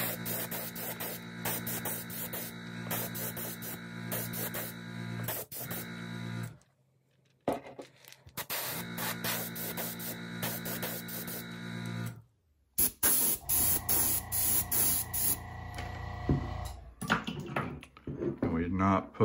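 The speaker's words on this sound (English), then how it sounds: "now I've got emerald green loaded up in the gun, and we're going to spray the spine." Steady, faint hiss of a paint spray gun laying emerald green onto a fishing lure, running in long bursts separated by brief silences.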